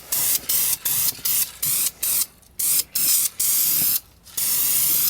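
Aerosol spray paint hissing onto a car dashboard as the final coat goes on, in about a dozen close, loud bursts, most lasting under half a second, with one longer spray at the end.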